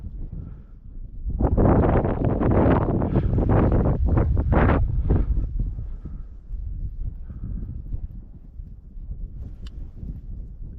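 Heavy wind buffeting a microphone outdoors while fishing, a loud rumbling roar in gusts that eases to a steadier low blustering.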